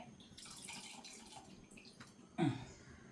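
Soaked tamarind is squeezed by hand and its water poured into a pot of tapioca curry, making a short, faint liquid splash near the end after quiet background rustling.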